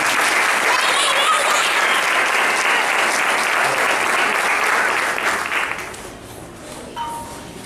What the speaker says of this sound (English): And let's give our string orchestra students a round of applause.